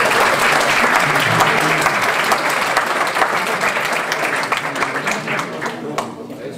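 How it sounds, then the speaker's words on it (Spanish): A lecture audience in Lima applauds the doctor with loud, sustained clapping that gradually thins and softens toward the end, with faint voices mixed in. "Un aplauso, por favor, para el doctor."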